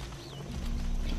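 Horse hooves clip-clop in the video game Sacred 2, a short rhythmic run of steady thuds over a busy game soundscape with a faint bird-like chirp.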